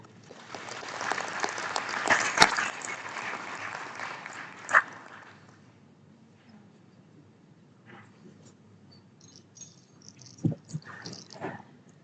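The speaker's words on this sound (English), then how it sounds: "Another big round of applause, please, ladies and gentlemen." Audience applause following a healthcare presentation at a conference, a broad wash of clapping for about five seconds that fades out, followed by quieter room noise and a few scattered knocks and sounds.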